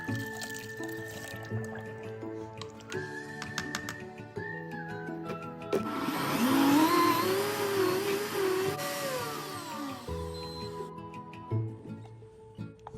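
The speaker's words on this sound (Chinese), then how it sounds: "再倒入破壁机内，加清水300毫升，搅拌成泥状" High-speed blender pureeing steamed mung bean halves with 300 ml of water: a loud, steady whirring roar lasting several seconds, framed by quieter liquid sloshing and light clinks before and after.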